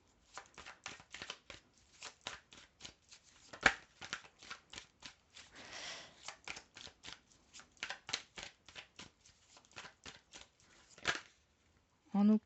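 Tarot cards are shuffled in a quick run of crisp riffling flicks, close and fairly quiet, with a few louder slaps as cards are drawn, and a soft voice speaks in places.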